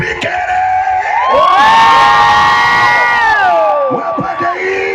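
Large crowd at a Kenyan church gathering cheering, shouting and whooping loudly together, a sustained roar of many voices rising and holding close by.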